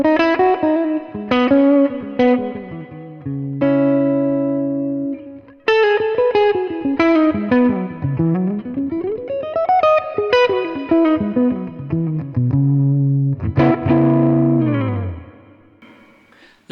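Electric guitar played through a Boss Nextone Stage solid-state amp set to its 6L6 power-amp mode: mildly driven, chorus-tinged single-note runs, slides and sustained chords with a clean, roomy edge, played loud and alone.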